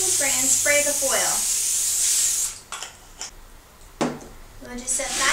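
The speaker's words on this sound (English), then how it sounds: "Then we'll take our cookie spray and spray the foil." A steady hiss of cooking spray onto foil on a cookie sheet runs for a couple of seconds, followed by a few light taps, with a voice speaking briefly before and after.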